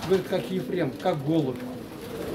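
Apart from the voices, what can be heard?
pigeon cooing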